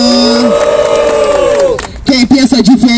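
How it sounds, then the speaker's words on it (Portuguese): A rap battle audience in a semifinal duel roars with loud, sustained shouting and cheering, then breaks into clapping and yells while a voice chants over the crowd. "Escutei mais palmas do que grito"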